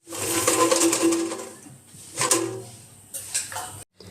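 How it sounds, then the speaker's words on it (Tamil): Crispy air-fried tofu pieces shaken inside an air fryer basket make loud, dense rattling and clattering bursts, then pause, with a second shorter burst and a few lighter knocks near the end. "இது எப்படி குலுக்கி காமிக்கிறேன், சவுண்ட் எப்படி வருதுன்னு பாருங்கள்."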